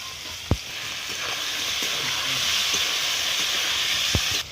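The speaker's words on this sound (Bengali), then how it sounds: "আলুর মধ্যে আমি গাজরটা আর বিনসটা দিয়ে দেবো, দিয়ে একসঙ্গে ভেজে নেব।" Potato, carrot and bean pieces fry in hot oil in a wok, a steady bright sizzle and hiss with two sharp knocks of a utensil against the pan.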